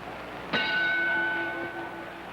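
Boxing ring bell at a welterweight title fight rings once to end round 5, a sharp strike followed by a long sustained ringing tone that slowly fades over crowd noise.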